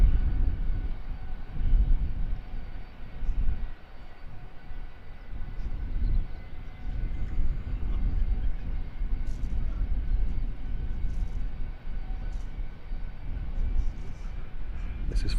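A patched-up Wizz Air airliner taxis toward the runway at London Luton Airport, its engines giving a steady, moderately loud drone that holds throughout with little change.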